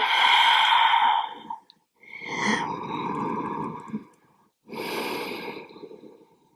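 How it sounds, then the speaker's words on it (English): Deep, full breaths taken during a yoga stretch in an animal-movement-inspired flow, three long breathy exhalations with short pauses between them, close and fairly loud with no talking. "Take a couple of full breaths here."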